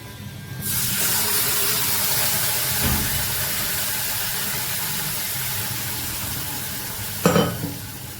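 Steady, loud sizzling of chilli powder and turmeric frying in hot oil, continuous throughout, with a brief clatter near the end.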